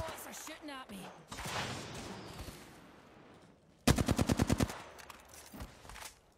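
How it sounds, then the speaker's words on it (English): Rapid automatic gunfire in the Apex Legends video game, a dense burst of about eight loud shots in quick succession following softer game noise, with voice chat heard earlier. "The boys are shooting at me."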